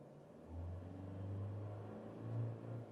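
A Toyota Fortuner diesel engine runs loudly, heard from inside the cabin as a deep steady rumble that swells twice with light revving, with no talking over it.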